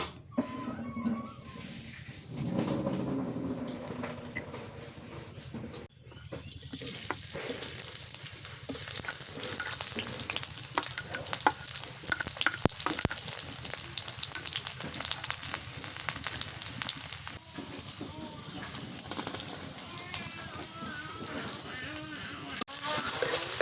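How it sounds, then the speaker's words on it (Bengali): Beef frying in a pan gives a steady, dense sizzle that swells after a quiet start, with occasional stirring and scraping sounds, and speech is heard in the background. "মাংসটা রান্না করি আগে।"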